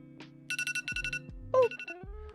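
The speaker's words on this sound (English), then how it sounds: "the timer will be going off so that the noise doesn't startle them" An electronic timer alarm beeps in quick repeated bursts during a lash lift, then gives a rising chirp, loud and close.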